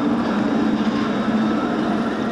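The Silver Bullet roller coaster train at Knott's Berry Farm accelerates with a loud, steady roar and rumble, heard up close from the front row without talk.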